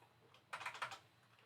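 A brief burst of quick, light clicks from a computer keyboard, a handful of close keystrokes after a quiet pause, with no talking.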